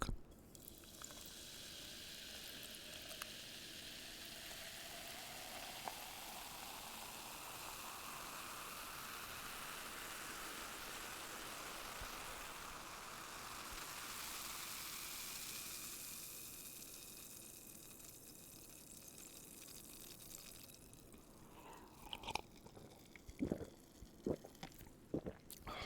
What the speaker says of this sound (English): Need to pour some Diet Coke.